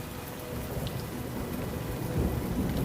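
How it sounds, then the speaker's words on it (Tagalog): Heavy rain pouring down in a steady dense hiss with low rumbling beneath, constant and enveloping, with no voices. "saktong bumuhos ang malakas na ulan"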